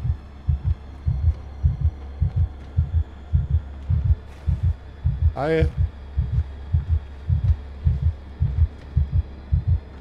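In the horror game A Quiet Place: The Road Ahead, the player's heartbeat thumps in loud, steady double beats close to the ear, and a short spoken greeting cuts in midway.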